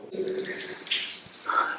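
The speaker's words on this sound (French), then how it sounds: "on entend le bourdonnement du ruisseau tout au bout" A stream gurgles at the far end of a bauxite mine tunnel, a continuous watery babble with small splashy highlights, fairly close and steady for a brief moment.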